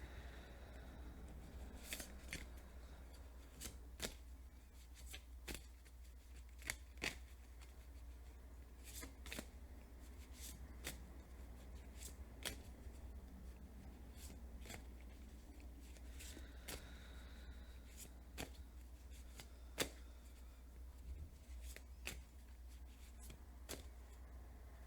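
Tarot cards riffle-shuffled at close range indoors, a run of sharp papery bursts at irregular intervals over a low steady hum, with no talk.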